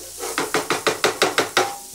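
Carrots, onions and allspice are stirred in a pan, giving about eight evenly spaced scraping swishes in quick succession over a low background sizzle, close and clear, with no talking.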